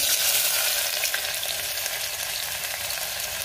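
Mustard seeds, cumin and onion frying in hot oil for a moong dal and potato curry, a loud, steady, close sizzle with fine crackling that eases slightly as it goes on.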